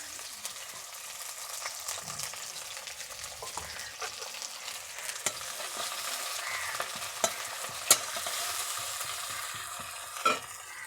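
Onions sizzle and fry in hot oil in a kadai for a Bengali patol chingri curry, with a steady crackle broken by scraping stirs and a couple of sharper clatters of the spoon.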